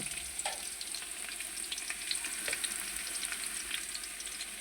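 Onions sizzle steadily in hot oil in a pan for duck khichuri, a constant broadband frying hiss with occasional faint stirring scrapes, close and alone with no voices.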